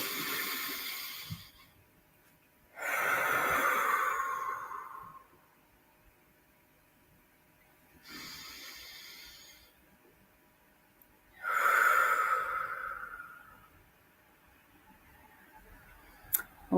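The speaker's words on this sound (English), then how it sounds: "Deep breath." Slow deep breaths in a guided breathing exercise: two long inhales and two softer exhales in an alternating pattern, close to the microphone, quiet, with near silence between them.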